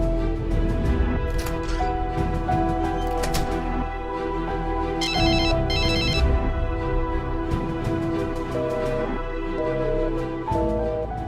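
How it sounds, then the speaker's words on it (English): A telephone ringing in repeated bursts of bright electronic trills, set against a sustained tonal music bed that runs throughout. "Pick up the phone, Nicole."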